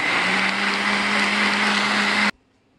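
A blender whirs at high speed blending rosemary in a loud, steady drone, then cuts off abruptly, leaving quiet.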